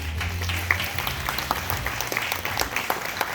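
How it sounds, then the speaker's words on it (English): Family audience at a live science museum show in Barrow-in-Furness applauds the volunteers, a sustained clatter of many hands with a low hum running beneath and a few louder individual claps standing out. "Let's have a round of applause for our volunteers"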